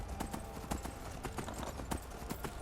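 Horse hooves in the Skyrim video game: a quick, steady clip-clop of hoofbeats on hard ground, close and clear with no talk.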